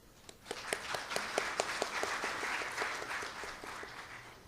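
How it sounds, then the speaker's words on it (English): An audience at a plenary session applauds to welcome a keynote speaker; a few sharp early claps quickly swell into broad, steady applause across the hall before tapering slightly. "Please welcome Mr. Stone with a big applause."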